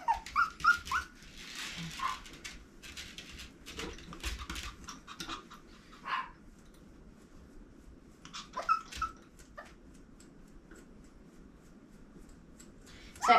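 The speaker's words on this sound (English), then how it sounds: "my dog Jude is barking outside" A Pomeranian barks outdoors, heard faint and at a distance in scattered short yips and whimpers over about thirteen seconds against a low background hum.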